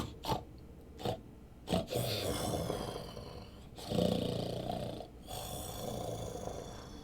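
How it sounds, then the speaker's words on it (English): A creature snoring in a Dungeons & Dragons fantasy scene, with slow, deep, rasping breaths rising and falling in long cycles, close and fairly loud, broken by a few short snorts. "The snoring continues."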